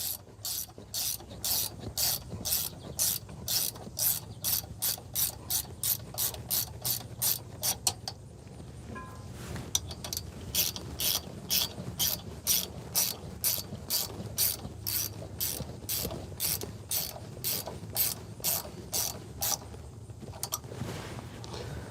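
Hand ratchet driving studs into a Cummins ISX15 diesel engine during rear main seal work, a steady run of close, sharp clicking strokes in rapid rhythmic bursts with a brief pause partway through.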